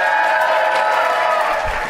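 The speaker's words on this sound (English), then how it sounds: "if we could give her a little cheer that maybe she can even hear" A conference audience at a keynote cheers and claps together, a short, loud burst of applause and whoops that fills the room.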